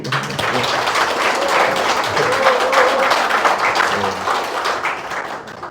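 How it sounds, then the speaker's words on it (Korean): Audience applause at a launch ceremony, a sustained, dense clapping from a crowd held at even loudness for several seconds before tapering off. "다시 한번 박수"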